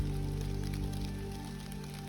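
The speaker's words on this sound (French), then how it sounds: "c'est la méga pluie" Heavy rain pours down in the woods, a dense, steady hiss of drops on leaves and surfaces, close and continuous throughout.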